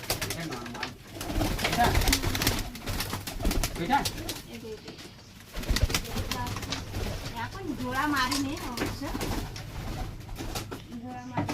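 Long-bodied Kaldum pigeons cooing repeatedly in a pigeon loft, their throaty coos close by and overlapping with people talking throughout.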